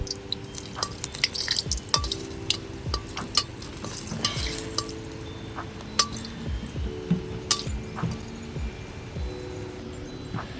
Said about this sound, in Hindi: सबसे पहले मैं ये लाल मिर्च हैं 3 से 4, इन्हें भून लूँगी